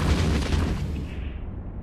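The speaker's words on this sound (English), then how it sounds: "So now if I try to open fire" Weapons opening fire in a space combat game, a deep booming burst that rumbles on steadily and loudly, with no voices.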